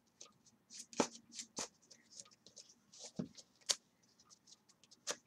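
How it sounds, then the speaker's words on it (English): A 60-card trading card deck is shuffled by hand in a quiet room, with soft, faint riffling and sharp card slaps in irregular bursts, close by. "Shuffle here."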